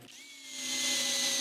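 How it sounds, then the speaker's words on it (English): Power drill driving a screw into a gas can holder attached to a rack, whirring up from a start to a steady high whine over about a second and a half, close and loud, with no speech. "The last thing to do is to put in better screws to attach the gas can holder to"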